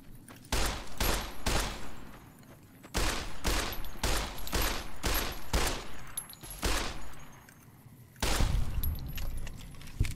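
Pistol fire in Fallout: New Vegas cracks out in sharp, separate shots, several in quick succession, then short pauses and another volley, loud and close with no one speaking.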